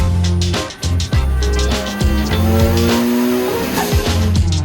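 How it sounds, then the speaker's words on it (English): A Mazda Miata's turbocharged engine with a bad internal fault revs loudly and unevenly, climbing and dropping in pitch with rough knocking and tire noise, close up throughout. "it developed some sort of bad internal engine noise"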